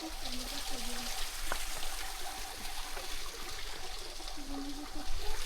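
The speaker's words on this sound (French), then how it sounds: "Bon, voici la deuxième cascade du coup qui est après la première." A small waterfall in the Dordogne gives a steady rushing trickle of water, with a voice speaking over it and faint tonal sounds in the background.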